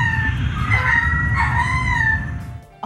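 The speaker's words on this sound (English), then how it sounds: "do you know what a lemur sounds like?" Vocalizing lemur at the Buffalo Zoo, giving loud, harsh, rising calls that sound almost like a rooster crowing, with a dense low rumble underneath, lasting nearly three seconds before cutting off.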